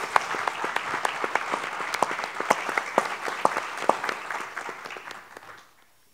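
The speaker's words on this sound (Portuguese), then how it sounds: "Salva de palmas, senhoras e senhores." Audience applause at a marginal literature event, crisp individual claps ringing out over a steady crowd patter for several seconds before fading abruptly to silence.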